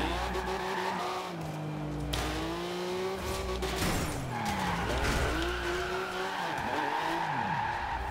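A 1982 Porsche 911 Turbo 3.3 drift build spins out in Forza Horizon 2: the engine swoops up and down through revs while the tires screech, loud and sustained, with sudden dips and surges as it slides round.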